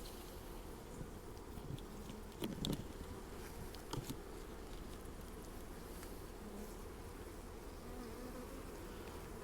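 Honey bees buzz steadily around an opened nucleus hive, a dense close hum with a few louder passes as individual bees fly near, and no voices.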